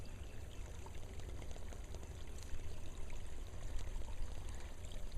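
Water from a spring at the start of a fountain trickles and pours steadily, a soft continuous splashing heard from nearby outdoors, fairly quiet and without voices.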